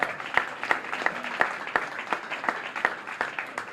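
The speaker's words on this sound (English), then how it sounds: "Before he retires, clap for him." An audience at a ribbon cutting for a senior housing residence applauds a retiring man named Bill McGonigal, steady crowd clapping with a few sharper, louder claps standing out at a loose rhythm.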